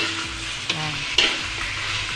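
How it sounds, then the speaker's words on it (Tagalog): Pork bistek sautés with garlic in a pan, a loud, close sizzle with spatula strokes scraping and knocking against the metal a couple of times. "Igisa lang natin siya ng ganyan."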